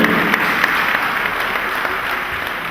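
An audience in a Paris town hall applauds the contestants of an Afro-Caribbean beauty pageant with steady, full applause from a large crowd that continues without pause and holds loud throughout.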